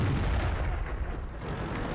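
A tank fires its main gun in an online tank combat video game, giving a heavy, booming, rumbling blast that carries through the whole moment without any talking.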